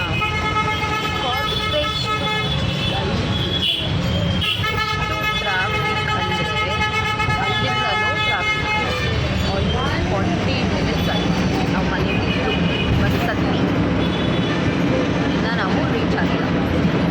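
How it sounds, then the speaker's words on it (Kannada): Heavy midday traffic on a busy street near Chickpet, Bangalore, forms a dense, continuous roar with repeated horn toots and honks layered throughout. "Full traffic."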